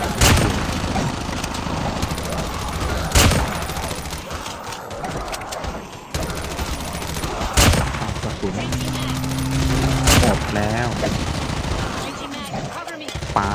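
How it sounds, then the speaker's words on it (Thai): Rapid bursts of gunfire in Call of Duty Mobile's Undead Siege mode, with sharp, loud shots and sustained automatic fire, layered over busy game sound effects and music. "ใช้ปืนยิงตาย"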